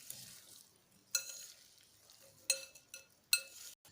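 Fruit salad being mixed with mayonnaise using two forks: soft, faint wet stirring with a few sharp clinks of the forks against the bowl, spaced about a second apart.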